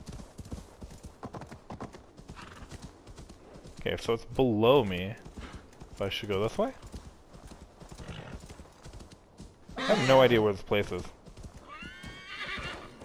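Horse hooves clop in quick rhythm and a horse neighs sharply several times in Assassin's Creed Valhalla, heard close while someone talks over the gameplay.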